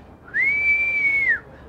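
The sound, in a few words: person whistling, imitating a call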